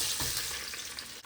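Onions and garlic hit hot oil in a pan for a mixed vegetable dish, giving a brief, close, hissing sizzle with a little stirring and no talk.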